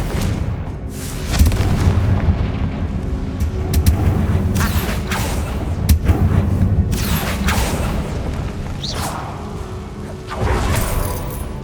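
Spell explosions from Bombarda and Confringo in the Hogwarts Legacy video game: repeated booming blasts and sharp bursts over dense, continuous battle noise and game ambience, loud throughout.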